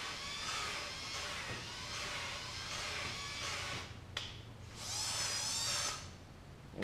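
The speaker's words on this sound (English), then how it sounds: "Now I'm running the drill in both rotations," An electric drill running on a truck cylinder head during disassembly, a steady whirring motor hum that pauses briefly and restarts in the other rotation, fairly faint and continuous.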